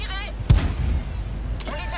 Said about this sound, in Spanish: Aquí ya ves que prueba un disparo pero no consigue dañarle tampoco